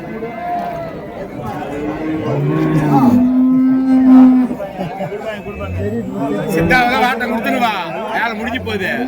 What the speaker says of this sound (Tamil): ஸோ ரெண்டுமே நாட்டு காளைங்க.